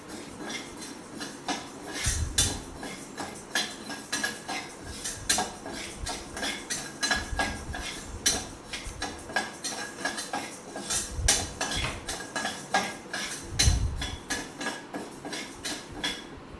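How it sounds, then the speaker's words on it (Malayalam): Dal lentils roast in a pan while a metal utensil clinks and scrapes against it. The sharp clatters come close and irregular over a low background hiss, with no talking. "ആദ്യമായിട്ട് നമുക്ക് ചെയ്യേണ്ടത് ഈ പരിപ്പ് വറുത്തെടുക്കണം."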